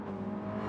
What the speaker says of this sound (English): Revving the absolute titties off the Mini.